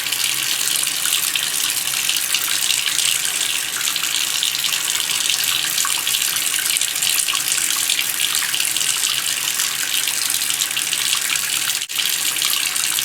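A tap runs steadily over a makeup sponge as it is wetted and rinsed, a constant close splashing hiss with no voices.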